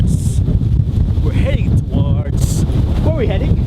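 Heavy wind buffets the microphone on a windy day out near Auckland, with a constant loud low rumble and voices talking over it.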